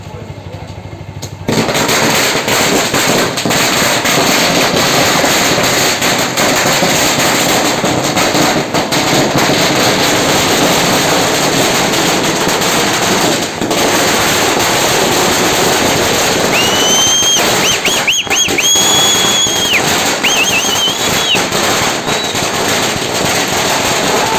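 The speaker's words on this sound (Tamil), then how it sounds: "கோவிலுக்கு முன்னாடி பட்டாசெல்லாம் வெடித்து விநாயகர் சதுர்த்தியை நல்லா கோலாகலமாக எடுத்துகிட்டு போனாங்க" Firecrackers burst outside a temple during Vinayaka Chaturthi festivities, a dense, continuous crackle of rapid pops and bangs sustained for over twenty seconds, with a faint whistling tone rising through the din later on.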